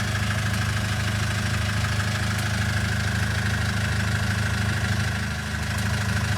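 A car engine idles steadily while parked, with a dashcam auxiliary battery fitted under the driver's seat. The low, even rumble is close and continuous, with no voices.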